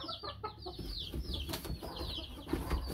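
Leaper hatch pullet, a young hen among gamefowl roosters, giving repeated soft clucks and chirpy calls over a few seconds, with faint farmyard rustling and a louder bump near the end.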